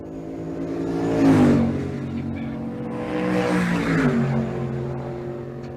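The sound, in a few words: 1971 Chevrolet C10 and Silverado trucks drag racing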